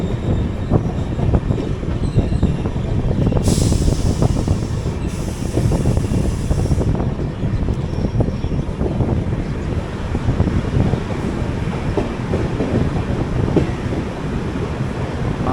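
The 22113 Kochuveli Superfast Express rolls steadily as it nears Roha and brakes for an unscheduled halt, with a loud continuous rumble and rattle of the carriages, a brief high hiss partway through, and heavy wind buffeting the microphone.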